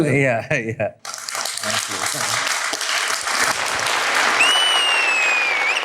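Studio audience applause on a talk show hosted by Balakrishna with guest Nani, dense sustained clapping after a brief spoken line, with a high whistle-like tone rising near the end.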